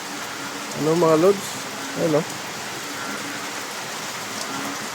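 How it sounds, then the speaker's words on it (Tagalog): Steady hiss of heavy, unbroken rain falling over a flooded backyard chicken yard, continuous and even throughout, with someone speaking briefly over it twice near the start. "walang tigil yung ulan"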